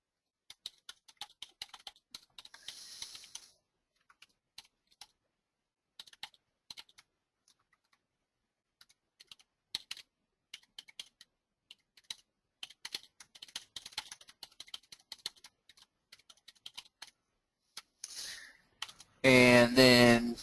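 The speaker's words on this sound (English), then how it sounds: "So then I would start typing my message." A computer keyboard being tapped in uneven bursts of close, crisp keystrokes with pauses between them, ending in a louder burst of noise.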